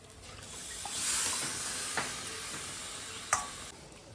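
Pieces of mutton drop into a pan of fried spice paste and oil and set off a loud, hissing sizzle that swells, then settles into a steady fry. A few stirring knocks sound close by, and nobody talks.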